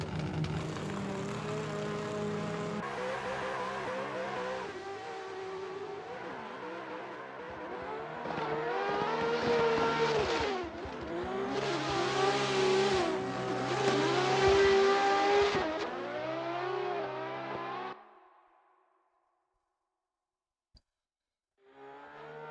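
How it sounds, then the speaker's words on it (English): Mustang drift cars running in tandem in a racing video game: layered high-revving engine roars that rise and fall with bouncing pitch for about eighteen seconds, then cut out into near silence. "that Mustang coming in nice and spicy. Another tandem"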